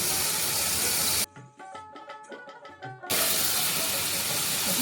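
Spiced egg and potato curry masala sizzles and hisses loudly in a pan, with a steady spattering fry that drops away briefly in the middle to quieter clinks before the sizzle returns.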